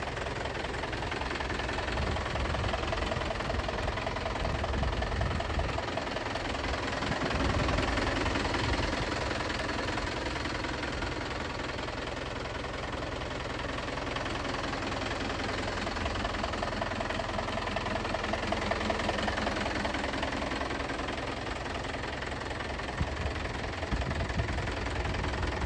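A used tractor engine idles steadily at close range, a continuous low knocking rumble with mild vibration that holds for the whole stretch without talk. The machine is one of several used models on offer: Mahindra Yuvo Tech+ 585, Swaraj 744 FE, Eicher 551 DI, Powertrac Euro 50 4x4 or MF 7250.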